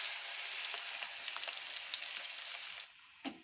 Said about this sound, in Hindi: हमें इसे ब्राउन नहीं करना, बस 1 से 2 मिनट के लिए फ्राई करना है